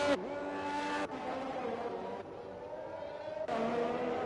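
Race car in a Monaco qualifying lap from a racing video game, a steady high-pitched engine whine holding and shifting pitch through several gear changes, with a commentator talking over it.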